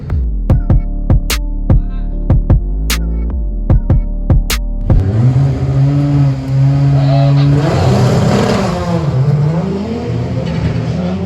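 A drag racing car makes its run at Santa Pod, loud and close: sharp spaced bangs first, then a sustained roaring engine that rises and falls in pitch as it accelerates away.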